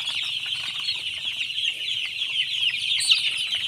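Broiler chickens in a farm coop fitted with modern equipment cluck and chirp in a steady, fairly faint chorus over a constant hum, with no voices.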